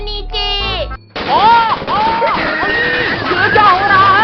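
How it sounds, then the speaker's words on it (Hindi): A loud cartoon explosion blast in a Hindi desi comedy cartoon, a sudden burst after a brief silence, with excited cartoon voices shouting over and around it. "अरे ये धमाका कैसा?"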